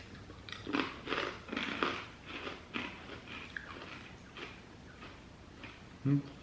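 Freeze-dried strawberry Skittles Pop'd candy crunched in a series of close, crisp bites and chews, with chatter mixed in and a sharper crunch near the end.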